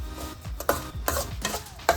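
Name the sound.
coconut and semolina frying and stirring in a pan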